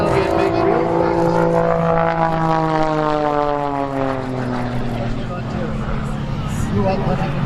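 An Extra 300 aerobatic plane performing snap rolls at an airshow, its loud propeller engine droning steadily with pitch sweeping downward as it passes, close and continuous throughout.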